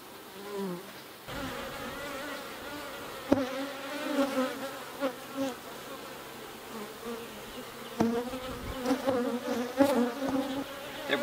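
Honeybees buzz continuously around a hive frame held over an open hive, a close, wavering drone with a few louder passes and occasional knocks of handling.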